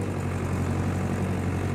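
A tractor engine idles with a steady low rumble and even, close throb that holds unchanged throughout, with no voices.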